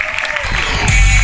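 An audience applauds volunteers at a hypnotist stage show, a loud dense burst of clapping and crowd noise that swells toward the end of a brief moment.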